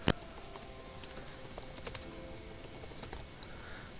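Quiet, scattered keystrokes on a computer keyboard, a few soft clicks spread irregularly over a faint background hum, with one sharper tap at the start.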